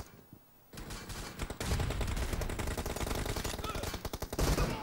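Rapid bursts of automatic gunfire in PUBG Mobile, a loud sustained stream of close shots with a brief quieter gap before and a few sharp trailing shots at the end.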